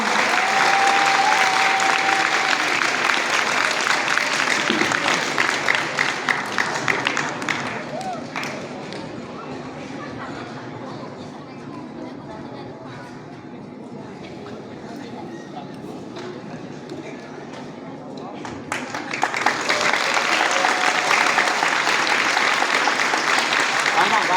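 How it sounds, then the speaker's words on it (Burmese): Audience applause honours a contestant at a youth scripture recitation contest, loud and dense clapping that fades into quieter murmuring and then swells again to full applause near the end, with voices under it. "လက်ခုပ်တီးပြီးတော့ဂုဏ်ပြုပေးချရအောင်"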